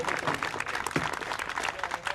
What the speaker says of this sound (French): Vous pouvez les applaudir, franchement.